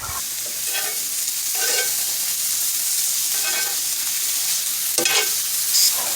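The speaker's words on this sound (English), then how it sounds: "I added the eggplant, and it's just a matter here of just searing until it's nice and golden brown on both sides" Eggplant sears in a dry pan with no oil, giving a steady hiss and sizzle broken by a few scraping stirs, with no talk.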